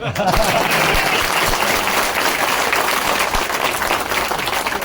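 A crowd applauding steadily at a political party address in Shivpuri, a dense wash of many hands clapping at once that holds its level from start to finish.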